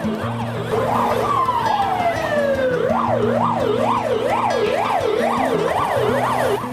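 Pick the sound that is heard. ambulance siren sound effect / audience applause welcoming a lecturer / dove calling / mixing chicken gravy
ambulance siren sound effect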